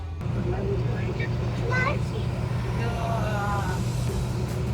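Road noise from a car leaving Zhashkiv on a long highway trip, a steady low engine and tyre drone running throughout, with faint voices and sounds over it.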